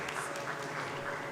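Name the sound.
audience applause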